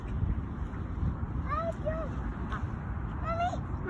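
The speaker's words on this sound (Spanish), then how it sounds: "Pájaros y patos." A few ducks quack in short, scattered calls over a steady outdoor background, with faint voices nearby.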